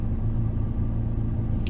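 A McLaren 650S idles with a deep, steady engine rumble before a track session in heavy rain at the Nürburgring GP track, heard from inside the car, low and continuous with no talk.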